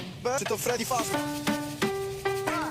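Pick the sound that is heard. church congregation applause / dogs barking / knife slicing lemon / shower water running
knife slicing lemon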